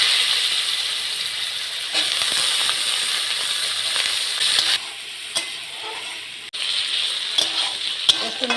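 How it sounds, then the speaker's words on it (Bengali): Washed potatoes frying in hot oil, a steady broadband sizzle that runs throughout with occasional stirring clicks and small shifts in intensity, close and fairly loud, with no talking. "এবার তেলে আলুগুলো দিয়ে দিচ্ছি"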